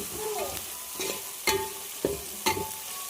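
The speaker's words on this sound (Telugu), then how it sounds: "పసుపు వేసుకొని మొత్తం ఒకసారిగా కలిపి వేసుకోవాలి" Turmeric is stirred into a frying curry in a pan, with a constant sizzle under several sharp spoon scrapes and knocks against the metal that come at a steady, irregular pace. The sound is close and fairly loud, with no talking.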